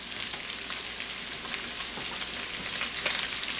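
Bacon and chopped onion fry in a Dutch oven with a dense, even crackling sizzle, heard up close and uninterrupted, with no one speaking.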